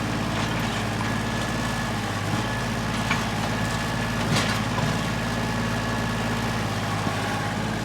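An old Kubota tractor engine idles at a steady, low, continuous rumble, close and unchanging, during an in-ground trampoline build, with no talk.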